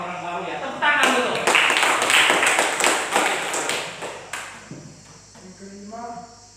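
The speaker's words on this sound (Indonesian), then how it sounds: "Tepuk tangan dulu." A small group clapping hands in a classroom-style lesson, a few seconds of sharp, fairly close claps that die out, with a voice speaking afterward.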